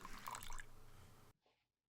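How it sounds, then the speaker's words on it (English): Water pours briefly into a small dish of dishwashing soap and acrylic paint, a short splashing trickle that stops abruptly, followed by a faint drip. "Then it's time to add some water."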